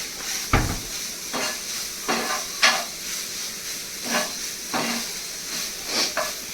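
Liver fries in a pan, a steady sizzle broken by repeated scraping stirs at irregular intervals, close and fairly loud with no talk.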